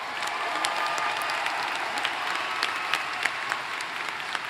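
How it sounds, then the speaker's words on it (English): A graduation ceremony crowd applauds the graduates with a full, steady wash of clapping and occasional sharper nearby claps. "Please join me in showing our appreciation with a round of applause for all of their efforts."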